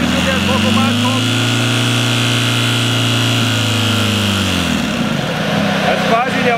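A Ziegler Ultra Power 4 fire pump engine (PFPN 10/1500) revs up under throttle, a loud close steady drone that rises and then drops back near the end.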